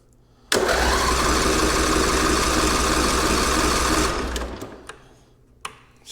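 A Cub Cadet 1440 lawn tractor engine catches on ether and runs hard and loud for about three and a half seconds, then dies down, followed by a few faint knocks and clicks.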